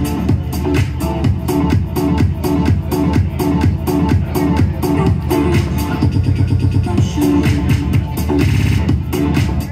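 Quarter-note roll effect triggered from the performance pads of a Denon DJ Prime 4 controller, repeating a beat-slice in steady even pulses over a loud, continuous dance track, with a brief stuttering build partway through.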